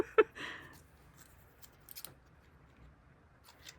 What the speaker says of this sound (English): Just going to do this with scissors.